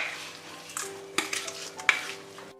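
Chana chaat with yogurt and chaat masala being stirred by spoon in a bowl, a few distinct scraping strokes and clinks against the side, close and sparse with quiet gaps, no voices.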